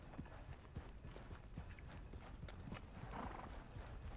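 Horse hooves clip-clopping in the video game Red Dead Redemption 2, a quiet, fairly even walking rhythm with faint ambient game sound behind it.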